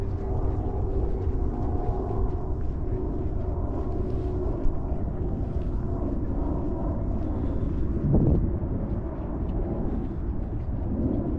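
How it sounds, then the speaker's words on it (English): A jet airliner taking off from Reagan National Airport, heard from the National Mall across the Potomac, gives a steady low roar that holds for the whole stretch with a slight swell near the end. "Another airplane taking off from Reagan National Airport."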